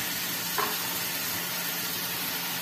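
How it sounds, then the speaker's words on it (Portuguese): Steady, even sizzle of chopped onion and garlic frying in a pan for a large batch of galinhada, continuous close hiss with one faint clink and no voices. "que eu deixei um pouquinho fritando aqui, a cebola já tá começando a ficar transparente."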